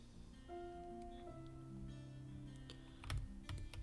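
A few faint keystrokes on a computer keyboard click near the end over a low, steady electrical hum, quiet and without speech.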